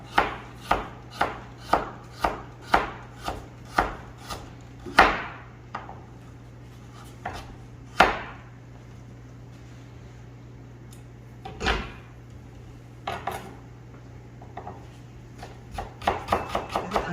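A knife chops carrots on a board close by, first in a quick steady run of sharp strikes, then in slower, scattered cuts.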